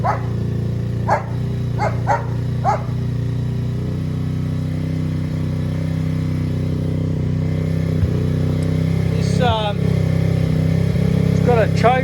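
A motorbike engine idles steadily on choke while warming up, a continuous low hum running throughout, with a dog barking intermittently in the background.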